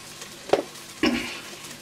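Ground spices with turmeric and coriander frying in oil over a slow flame for an Indian-style egg curry, heard as two short sizzling bursts, the second longer, against a quiet background.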